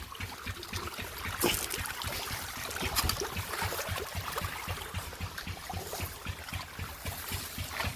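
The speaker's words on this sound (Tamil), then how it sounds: "கீழே இறங்கி ஸ்ட்ரைட்டாக அப்படியே தண்ணி நேர் போய்கிட்டு இருக்கு பாருங்கள்" Irrigation water flows through a channel in a coconut grove with a steady bubbling, trickling wash, close by and continuous, with a few louder splashy surges and no voices.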